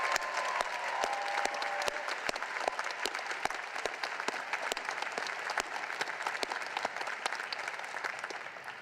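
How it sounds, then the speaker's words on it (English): A graduating veterinary class receives applause at a commencement ceremony: steady, dense clapping from a sizable audience that holds the whole stretch, with a few sharper individual claps standing out near the front. "Let's just have a round of applause for this class."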